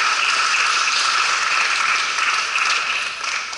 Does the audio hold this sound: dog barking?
no